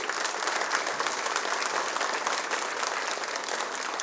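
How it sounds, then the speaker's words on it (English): Sustained applause from an audience at a youth leadership awards event, dense steady clapping filling the room without pause, moderately loud and without voices on top. "so a round of applause to them"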